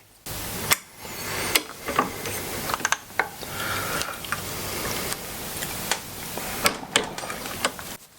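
Armorer's wrench ratcheting a barrel nut tight on a 6.5 Grendel rifle build, heard as a series of sharp mechanical clicks and ratchet bursts at an uneven pace, close and fairly loud, with no talking.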